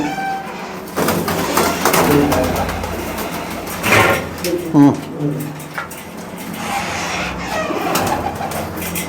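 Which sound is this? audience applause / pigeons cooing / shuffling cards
pigeons cooing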